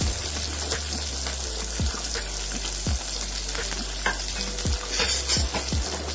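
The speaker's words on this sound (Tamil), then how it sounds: "இது வந்து இந்த மாதிரி நல்லா கொஞ்சம் வதங்கட்டும்." Garlic, about fifteen cloves, sautés with ginger in a pan for country chicken curry, giving a steady close sizzle broken by occasional spoon scrapes against the metal.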